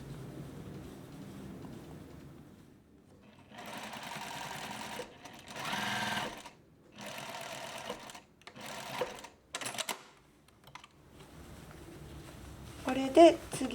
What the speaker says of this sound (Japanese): ロック目の5ミリのところを一緒に縫っていきます